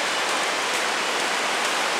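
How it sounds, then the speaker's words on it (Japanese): Heavy rain pours down in a steady, dense hiss outside the entrance of Sazanka Hall in Yamatotakada during a downpour forecast at over 80 mm per hour. The wash is constant and close, with no talk. "ただいま山本から豪雨ですが、真っ暗でございますからね"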